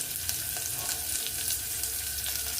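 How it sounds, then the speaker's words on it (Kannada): Finely chopped onion sizzles in a hot tempering for leafy-greens sambar, a lively, continuous frying hiss with scattered crackles and pops, close and unaccompanied by talk. "ಈಗ ಅದಕ್ಕೆ ಸ್ವಲ್ಪ ಈರುಳ್ಳಿ ಹಾಕ್ಕೊತೀನಿ. ಸಣ್ಣಗೆ ಹೆಚ್ಚಿಟ್ಟಿರೋ ಈರುಳ್ಳಿ ಸಾರಿನ ಒಗ್ಗರಣೆಗೆ"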